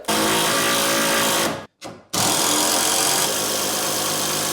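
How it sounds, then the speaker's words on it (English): A power drill bores down into timber for an alcove bed build, a loud, steady whine that cuts out briefly, then restarts and runs on evenly, with no talk. "now you're going to drill down from that into the one below"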